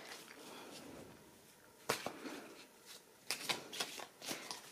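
Tarot cards shuffled by hand in a quiet room, soft riffling rasps giving way to several crisp, close bursts of card flicks and slaps in quick succession.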